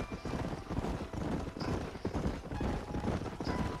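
Horse hooves clip-clopping in the Red Dead Redemption video game, a steady rhythmic trot of several hoofbeats with a brief whinny, moderately quiet and close, without speech.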